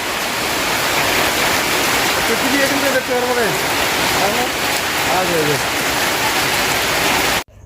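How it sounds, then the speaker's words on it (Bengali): Steady heavy evening rain pours down throughout in darkness, a dense hiss, while a voice speaks faintly underneath it. "এই সময় চলে আসলো বৃষ্টি"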